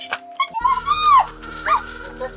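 A dog in a film scene gives a few short, rising yelps and whining cries over a steady droning music background, fairly loud and near.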